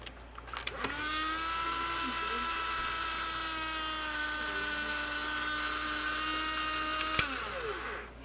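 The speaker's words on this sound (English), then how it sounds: "The motor only runs, so that indicates that the motor shaft gear is split" The small electric motor of a battery-powered toy DJ duck with a split motor shaft gear runs continuously, a thin steady high whine with a click at start and stop, close but quiet.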